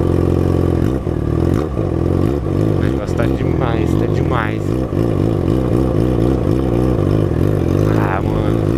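Yamaha XJ6 motorcycle engine revving loud and close in a street outside a nightclub, harmonic tone climbing and dropping with each throttle blip, under steady chatter as people talk over it.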